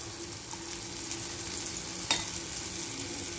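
Spices go into a sizzling onion and tomato masala in a pan, a quiet steady frying hiss with a single soft stirring clink, no talk.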